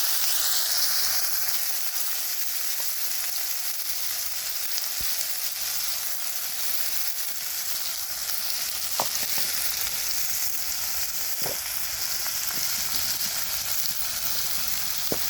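Potatoes, garlic and onion fry in hot oil in a wok, giving a continuous loud sizzle with a few sharp clinks from stirring and no voices.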